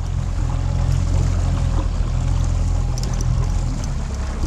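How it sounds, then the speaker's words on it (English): Fishing boat motor on Puget Sound, throttled back slightly while salmon fishing, runs as a steady low drone with a constant hum and light water wash, close and loud throughout with no talk. "They pull back the throttle just a little bit."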